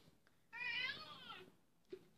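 A cat gives one clear, drawn-out meow lasting about a second, fairly close but soft, followed by a faint short chirp at the end, with no talking over it.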